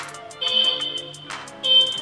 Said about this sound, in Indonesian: Itu suara klakson H2.